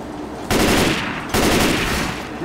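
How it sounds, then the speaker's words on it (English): Gunfire at a biker in the game Left 4 Dead 2, two loud sustained bursts of rapid automatic shooting, each lasting under a second, with a brief gap between them. "I am shooting that biker."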